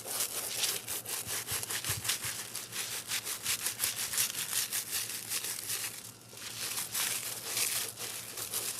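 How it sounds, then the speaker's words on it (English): A small scrub brush works back and forth over canvas boot fabric, giving a steady, close, raspy scrubbing rhythm of rapid strokes with one brief pause, and no talking. "I'm taking my little scrub brush."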